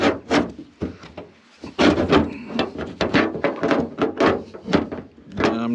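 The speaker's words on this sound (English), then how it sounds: "it's gonna take probably my big crowbar here to push it down" A big crowbar prying and pushing down on a jammed trunk mechanism in a Ford, giving repeated rhythmic wooden-sounding scrapes, rubs and knocks, loud and close, with a short pause near the start.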